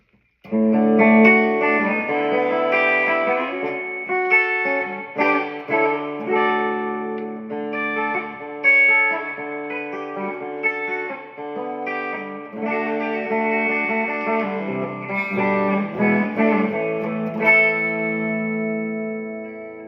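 Clean electric guitar, an Ibanez Iron Label Seer, played through an amp, chords and picked notes ringing with a touch of reverb, steady and upfront with no voices.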